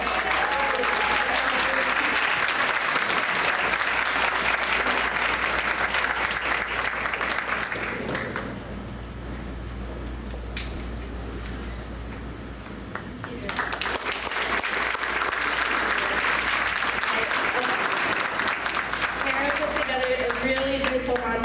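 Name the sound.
audience applause for a student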